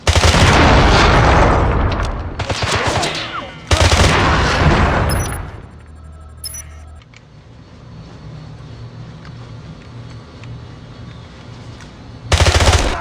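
Heavy automatic gunfire in James Bond 007: Blood Stone, two loud, dense bursts close up, then a quieter stretch of game ambience before another burst starts at the end.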